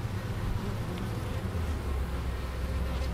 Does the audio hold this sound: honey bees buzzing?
yes